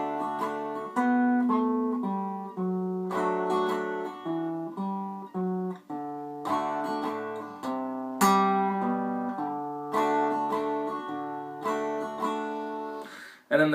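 Acoustic guitar plays a song's riff in open G tuning, a steady run of plucked melodic notes over ringing lower strings, close and clear with no talking.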